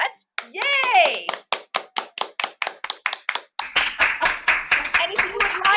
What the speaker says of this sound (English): I think we should all give ourselves a round of applause